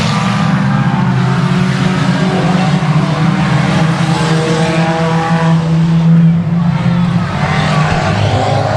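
4-cylinder race cars roar off the start of a Boothill Speedway main event: a dense, loud, continuous engine drone from a pack of cars, with rising and falling revs throughout.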